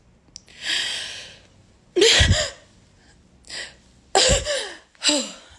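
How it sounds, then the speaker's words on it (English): A person sniffs and gasps, then lets out a couple of sharp, explosive sneezes close up, with breathy pauses between them. "I gotta sneeze."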